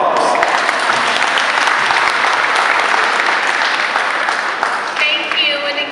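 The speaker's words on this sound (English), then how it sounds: "Let's give her a round of applause." A crowd applauds a breast cancer survivor at a Making Strides Against Breast Cancer event in Martinsburg, WV, with loud, sustained clapping that carries on for several seconds before easing off.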